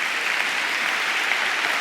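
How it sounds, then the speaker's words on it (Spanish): A congregation in a church service applauding the Lord, a thick, even roar of many hands clapping together, sustained and uniform from start to finish with no talk over it. "Démosle un fuerte aplauso a nuestro Señor"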